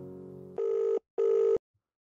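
Telephone ringing for an incoming call: a buzzy tone leads into two firm rings, each about half a second long, separated by a short gap, then silence.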